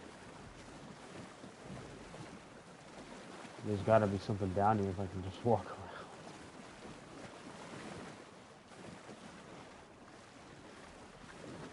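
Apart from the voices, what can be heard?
character wading through water in a video game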